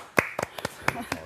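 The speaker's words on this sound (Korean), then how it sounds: "박수 한번 보내주시죠" A small group at a mock job interview gives a short burst of about six sharp, separate hand claps, close and fairly quiet.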